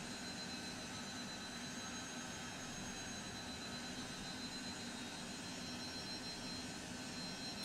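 Jet engines roar at high power as the thrust reversers of a Lockheed Jetstar are deployed on landing in Microsoft Flight Simulator, a constant loud broadband rush with no break across the whole stretch.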